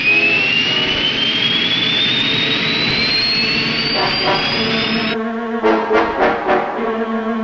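Loud, continuous roar of B-58 Hustler jet bomber engines running before takeoff, with a rising whine over the top, then uneven surging bursts of the engines near the end.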